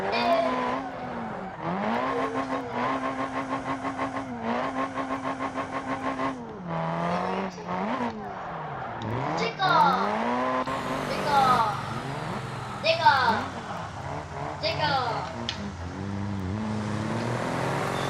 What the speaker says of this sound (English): this thing absolutely loves the limiter on this motor we built